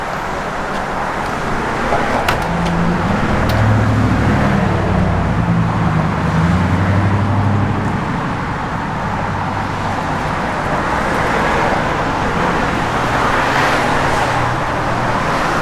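A 1964 Ford Galaxie 500's engine rumbles steadily while driving, with road and wind noise throughout, fairly loud and continuous.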